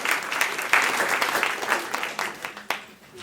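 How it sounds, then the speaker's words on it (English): Brief audience applause for an absent crew member at a theater event, a smaller crowd clapping in uneven bursts that swell and then begin to thin out toward the end. "a round of applause for Chris"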